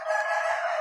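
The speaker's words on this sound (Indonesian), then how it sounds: "video dubbing aku ini banyak suara ayam yang masuk" A rooster crows at a neighbour's house in a village, a clear, sustained crow heard alone at moderate distance.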